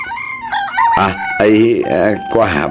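A fighting cock crows in a rural Ilocano setting, giving several loud, close, drawn-out calls with rising and falling pitch that nearly fill the short stretch.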